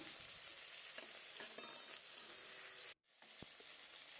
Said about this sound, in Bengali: এপিট ওপিট লাল লাল করে ভেজে নেব।